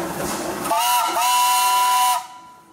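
A steam traction engine's whistle sounds at a pioneer engineers' parade, a single sustained tonal blast of about a second and a half that cuts off abruptly, preceded by crowd and engine noise.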